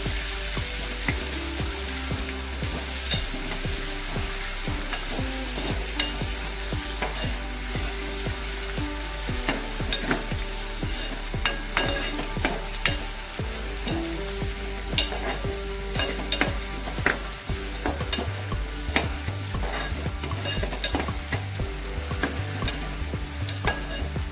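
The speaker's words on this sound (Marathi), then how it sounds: "आपल्याला कांदा थोडा परतवून घ्यायचा आहे।" Onion sautés with curry leaves in a pan, a steady sizzle beneath repeated spatula scrapes and knocks against the pan, with a low background hum and no talking.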